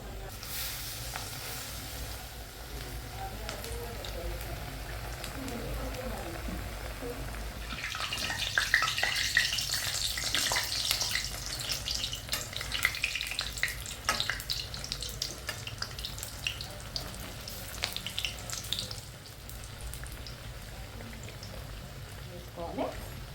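Bread pakoda frying in hot oil in a home kitchen, a soft steady sizzle that swells and crackles for several seconds before settling back, fairly quiet and mostly without talk.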